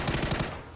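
Rapid gunfire in PUBG at a competitive tournament match, a quick burst of several evenly spaced shots over less than a second, loud and close with nothing else around it.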